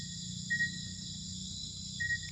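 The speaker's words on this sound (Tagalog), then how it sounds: "Yung mga boses ng insekto. Padilim talaga yung ano." Insects chirping outdoors at night beside a copra-drying kiln, a faint steady high buzz of crickets with two short louder chirp bursts, no talking.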